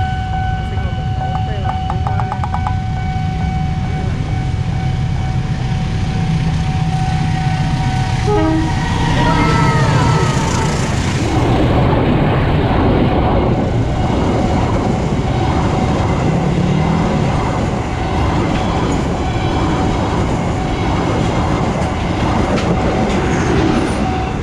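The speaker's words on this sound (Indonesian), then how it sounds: "Itu dia keretanya dari depan." A train rolls through a busy railway level crossing in Jakarta, a loud sustained rumble with a horn blast and squealing, clattering wheels as the cars pass close by, while people talk under it.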